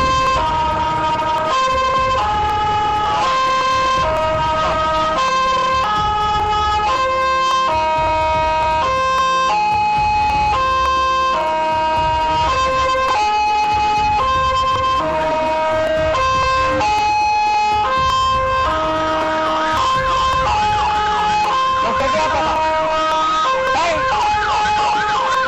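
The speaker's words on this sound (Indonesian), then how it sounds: "Meski sudah menghidupkan sirine tanda membawa pasien darurat" Ambulance siren wailing continuously and loudly on the Cawang inner-city toll road in East Jakarta, a repeating two-tone cycle over traffic noise, with a voice talking over it.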